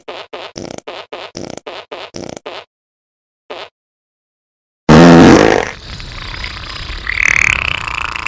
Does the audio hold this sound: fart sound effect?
yes